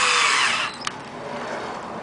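Power drill driving screws into wood while building a chicken coop: a brief high whirring burst that winds down, a sharp click, then quieter mechanical hum, close by.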